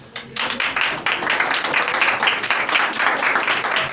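Audience applause at a children's Christmas program in a church hall, a dense burst of many clapping hands that starts abruptly and continues steadily, fairly loud and close.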